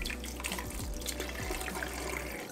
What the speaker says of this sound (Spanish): Y un poquito del agua de cocción.